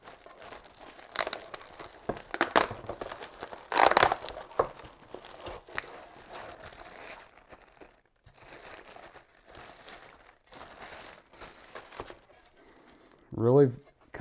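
Plastic wrap is peeled and crinkled off a metal laptop stand, with scattered crackles and rustles and one louder burst of crumpling, while a person talks intermittently over it.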